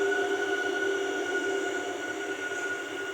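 A train creeps slowly through a railway track-work mega block near Shahjahanpur, giving a continuous rumbling roll with faint metallic ringing tones, fairly distant and steady throughout, no talking.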